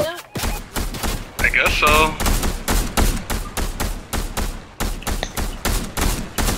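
Rapid video game gunfire rattles in dense bursts, sustained fusillade-like shots filling the scene, loud and close, with players talking over it.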